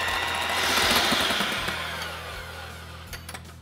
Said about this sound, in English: we're gonna whisk our egg whites up into frothy peaks.